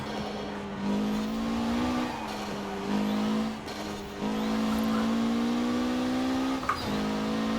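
A Mitsubishi Evo VI is pushed hard through corners in Forza Horizon 4, the engine droning loudly at high revs, briefly dropping and climbing again through several gear shifts.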